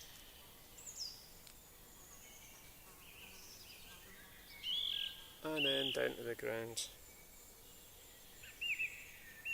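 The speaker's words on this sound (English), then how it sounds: "I hope you can hear all the birds here." Birds chirp and trill faintly outdoors with insects buzzing underneath, while a person speaks briefly partway through.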